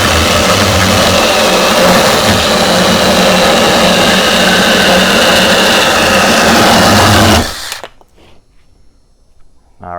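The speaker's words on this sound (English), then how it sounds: "let's do our usual cuts on a 2x4" A Sainlogic battery-powered mini chainsaw cuts through a 2x4 with a loud, steady, close buzzing whine for several seconds, then stops abruptly, leaving near silence.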